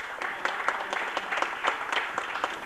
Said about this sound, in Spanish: Demos un aplauso para él, por favor.